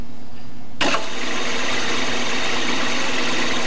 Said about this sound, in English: So now what we'll do is start the lathe.